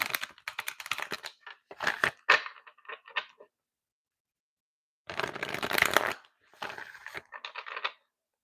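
A deck of oracle cards is shuffled up close in two quick flurries of crisp riffling and snapping, separated by about two seconds of silence.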